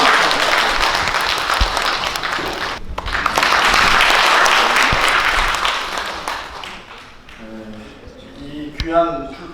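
A crowd at a Korean book launch event applauds loudly and steadily for several seconds, then the clapping fades as a voice begins speaking.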